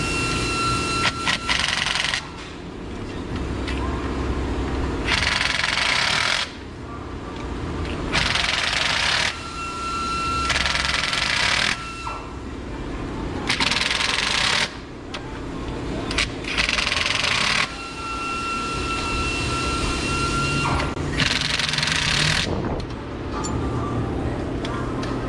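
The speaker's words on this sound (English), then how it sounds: "I'm going to run these down harder with the gun." A power gun runs bolts down on a Toyota Tacoma 2.7L engine, firing in a string of sharp, loud bursts separated by brief pauses, with a low background hum between them.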